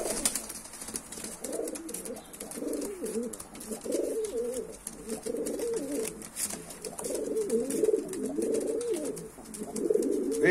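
Rock pigeons, kept as tumbler pigeons, coo in soft, repeated throaty rolls during pairing season in Tbilisi, Georgia. The calls come close and in overlapping bouts over a faint background hiss, with no talking.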